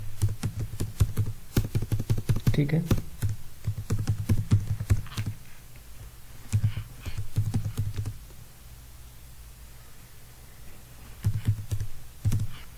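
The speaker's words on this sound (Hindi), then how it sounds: "मैं कीबोर्ड से कोई भी डेटा एंटर करा रहा हूँ" Fingers type on a computer keyboard in quick clattering bursts separated by short pauses, close and crisp, with a brief spoken word in between.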